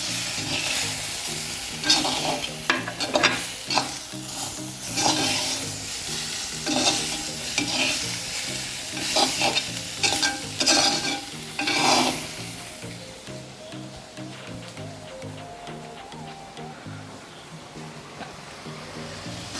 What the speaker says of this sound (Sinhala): ඊට පස්සේ සැමන් ටික ඒකතු කරලා පරිස්සමින් හැඳි ගා ගන්න.